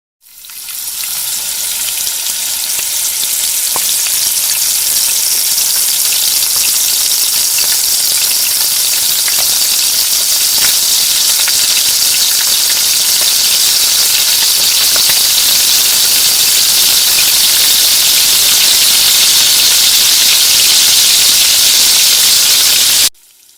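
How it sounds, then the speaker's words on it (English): Flour-coated chicken deep frying in hot oil, a loud steady sizzle and hiss that holds constant for over twenty seconds before cutting off, with no voices. "Now all we're going to do is fry it till it's golden brown."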